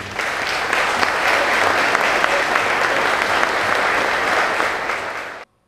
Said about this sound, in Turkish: bütün bayraklar adına Tunç Soyer'e bir alkış rica ediyorum.